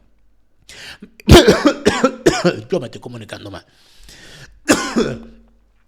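A person coughs hard in a short fit, with the bursts coming between spoken Spanish and ending in a final throat-clearing cough.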